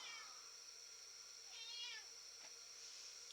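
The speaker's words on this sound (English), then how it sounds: "I'm getting yelled at by a cat" A house cat meows a few times, short rising calls at moderate distance over a quiet room, with no talking.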